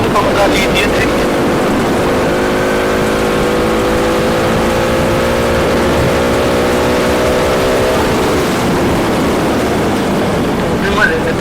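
A KTM RC 200 BS6 motorcycle with an SC Project aftermarket exhaust revving loudly and close, a held high-rpm tone rising and falling over several seconds.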